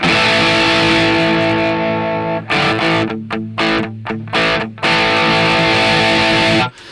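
A heavily distorted electric guitar through a Valeton GP-100 amp modeler rings out in thick sustained chords, briefly choked into a few stuttering stabs before one long held chord returns, loud and alone.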